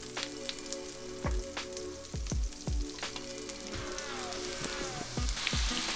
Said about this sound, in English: saute my onions and my garlic